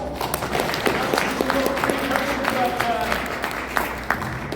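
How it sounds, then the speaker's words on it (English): Dinner-event audience applauding a man named Clint, a sustained wash of clapping with voices mixed in and scattered louder claps, steady at moderate level throughout. "Give Clint a round of applause."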